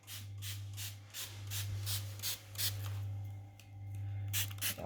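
Repeated short hissing sprays from a hand pump bottle misting the soil of chocolate mint root cuttings, about a dozen quick bursts in a steady rhythm, close by over a constant low hum.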